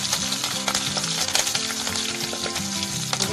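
Cinnamon, cardamom, cloves, cumin and green chili sizzling in hot oil, a loud, dense crackling fry with rapid popping spatters, close up and uninterrupted.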